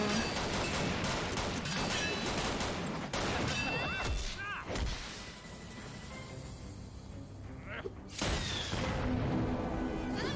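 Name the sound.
gunshots in animated show RWBY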